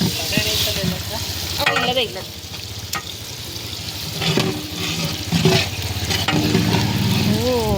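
Spices sizzle and crackle steadily in tempering oil in a pan, with occasional clinks of a spoon and faint voices in the background, during large-scale cooking for a temple feast.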